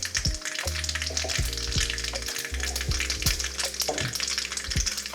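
Mustard seeds and cumin sizzle and crackle in hot oil for a tempering in a ridge gourd dal, with steady frying hiss and sharp pops spread across the stretch.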